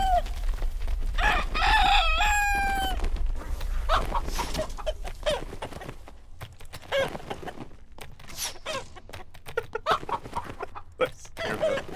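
Chickens in the video game Dark and Darker, a loud rooster crow near the start followed by dense, busy clucking and squawks from several birds close by, with some voices faintly mixed in.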